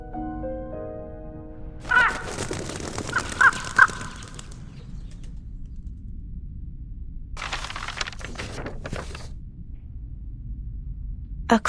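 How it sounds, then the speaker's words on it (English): A crow caws several times in the video game Reveese: 1999, with harsh, close calls in clusters over a quiet backdrop and a short burst of sound before the first caws. "A crow?"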